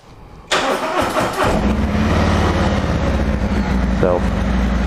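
A 2020 Harley-Davidson Electra Glide Standard on its stock exhaust cranks and fires up close by, catching suddenly and settling into a steady, deep, rumbling idle.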